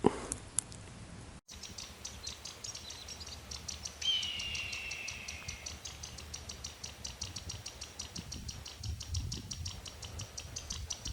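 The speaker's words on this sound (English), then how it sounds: "Hear all these little guys down in here chirping? Those are quail." Small chirps of quail hidden under a big cottonwood tree, faint and steady against outdoor background noise, with an insect-like high trill running through the clip and no talking.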